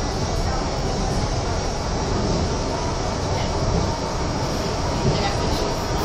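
A Miami Metrorail train at the Miami Airport station gives a steady, loud rumble of rolling rail cars and wheels throughout.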